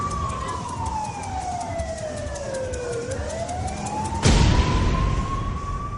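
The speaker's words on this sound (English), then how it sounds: "Within minutes, the ambulance arrives and the girl is taken to the hospital." A loud wailing ambulance siren sweeps up and down in pitch while vehicle noise rumbles underneath, growing louder near the end, in Thailand.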